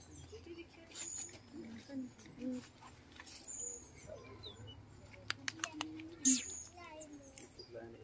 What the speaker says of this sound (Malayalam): മങ്കി ടൈപ്പ് ആണെങ്കിൽ അതിൻ്റെ സൗണ്ട് ഭയങ്കര കിളിയുടെ സൗണ്ട് പോലെ.